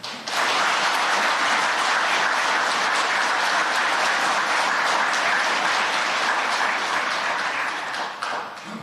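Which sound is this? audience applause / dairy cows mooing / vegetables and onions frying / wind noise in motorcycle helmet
audience applause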